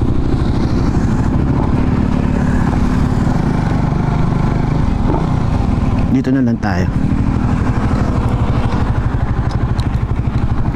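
A Raider 150 FI motorcycle engine chugs steadily near the mic while someone speaks, then the engine note drops and cuts out about two thirds through.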